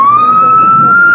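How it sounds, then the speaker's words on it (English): A police siren test in a radio drama, one close, very loud steady wail that rises slightly and holds on a single tone, heard alone. "say now, real police siren, huh?"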